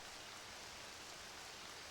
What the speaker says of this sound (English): to light that torch to stop the rain